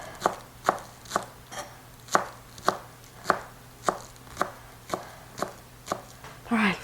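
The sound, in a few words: knife chopping green onions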